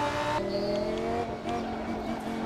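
A car engine drones with a steady, whining pitch that shifts as it changes gear, sounding synthetic and continuous like a racing game.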